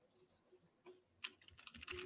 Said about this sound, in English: Just typing some stuff out real quick.